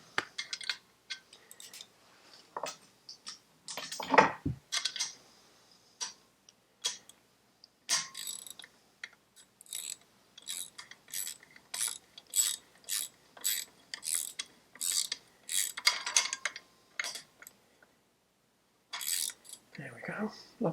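A ratchet clicks in rapid bursts as a fastener is tightened down during work on a car, with short pauses between runs of dense metallic ticking and a few knocks, close and fairly quiet.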